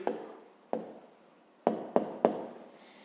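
A pen on paper makes a handful of short, close scratches and taps as a math answer is written down, separated by brief pauses, faint and with no talking.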